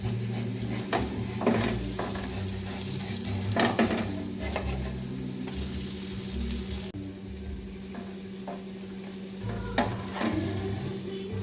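Pesarattu batter fries on a hot griddle with a steady sizzle, broken by the scrape of a spatula and occasional utensil clinks.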